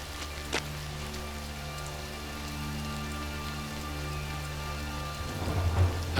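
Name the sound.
rain falling with thunder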